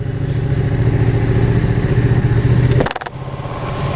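A Ducati 959 Panigale runs close by at a steady, loud idle-to-low rev, a deep throbbing drone that cuts off abruptly near the end with a brief clatter before settling lower.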